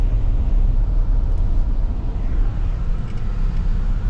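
A car rolling over a stream culvert on a rural farm road, giving a loud, steady low rumble of tires and engine from inside the vehicle, no talking.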